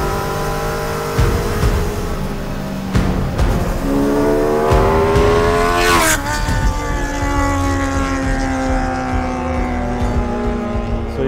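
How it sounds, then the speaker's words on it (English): Custom mid-engine Mini fitted with a motorcycle engine that revs to 13,000 RPM, blipped repeatedly in loud, close, high-pitched rising and falling revs with a sharp spike near the middle, no talking. "Oh, but this engine sounds un-fucking believable."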